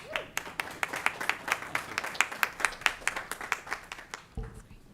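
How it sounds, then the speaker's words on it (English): A small audience claps for a speaker at a public announcement event, a sparse round of distinct individual hand claps, moderately loud and close, tapering off after about four seconds. "So give her a warm round of applause."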